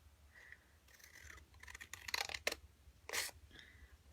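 Scissors snipping paper for a Christmas decoration, a quiet, close series of short crisp cuts in irregular bursts with no talk.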